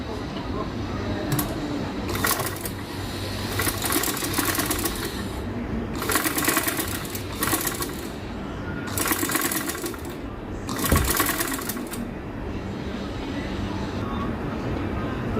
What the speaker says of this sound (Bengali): কিনারে দিয়ে একদম সাইড দিয়ে একটা সেলাই দিয়ে নিব